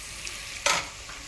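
Stuffed bitter gourd (karela) cooking in oil over a low flame: a soft, steady sizzle with one brief louder burst of frying noise midway.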